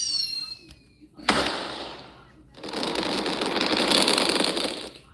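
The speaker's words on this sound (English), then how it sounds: "Fireworks. The festival must have started. The explosions of the fireworks filled the night sky." Festival fireworks burst in the Blue Archive video game: a sharp loud crack, then dense rapid crackling and popping that fills the second half, alone.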